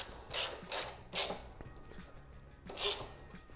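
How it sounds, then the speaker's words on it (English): A nut is tightened on the drum brake support of a Honda CB200T motorcycle, giving four quick rasping ratchet strokes up close, with small metallic clicks and a pause between the third and fourth. "install that and tighten up this, this nut here"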